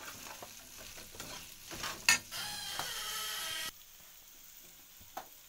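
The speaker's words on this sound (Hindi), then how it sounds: "इन्हां नूं आपां इहदे विच पा के मिक्स करांगे।" Cut green chillies and amla are stirred together for pickle, giving soft, quiet mixing rustles and light knocks, with one brief louder clatter partway through before it fades to near stillness.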